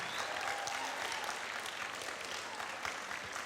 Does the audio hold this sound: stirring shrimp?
no